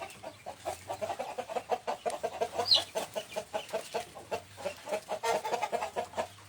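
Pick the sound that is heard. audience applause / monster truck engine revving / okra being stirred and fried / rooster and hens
rooster and hens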